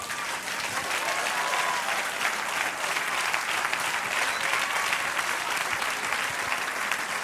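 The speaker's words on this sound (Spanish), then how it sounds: "Denle un aplauso al Señor." A church congregation applauds with dense, steady clapping that fills the space at an even loudness from start to finish, with no pauses.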